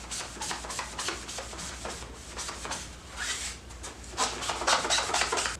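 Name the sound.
scrubbing a seat cover line with a magic eraser and alcohol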